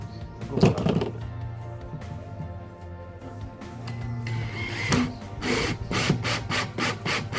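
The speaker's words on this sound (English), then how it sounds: "When drilling these plastic tanks, it's better to go slow and steady" A 50mm hole saw grinds and rasps into a plastic fresh water tank for a VW Crafter campervan, fairly close, with uneven scraping bursts that swell and ease as the cut goes slowly.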